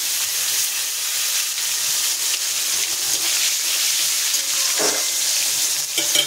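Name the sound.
cumin and tomato sizzling in hot oil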